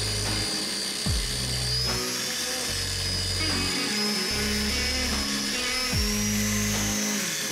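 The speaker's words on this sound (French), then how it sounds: "je vais essayer de meuler ce que je peux, et je vais essayer de pas passer au travers." Grinding on the exhaust manifold of a Renault 11 diesel being prepared for a big turbo: a steady high-pitched power grinder whine with a rough, pulsing low rumble as the tool bites and eases repeatedly, loud and close throughout.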